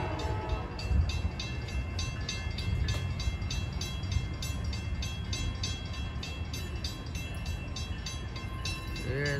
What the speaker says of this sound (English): Here comes Amtrak P371 arriving in Holland Station.